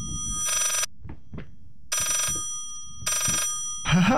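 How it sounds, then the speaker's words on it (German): In the horror video game Layers of Fear, an old telephone rings in three evenly spaced electronic bursts, each about a third of a second long, separated by quiet pauses with soft footsteps, and ends with a brief sound. "Es klingelt normal herum."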